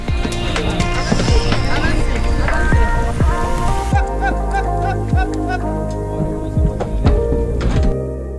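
Horses with riders in a training session clip-clop at close range, hooves thudding in an irregular rhythm, with a whinny and some talk and birds in the background.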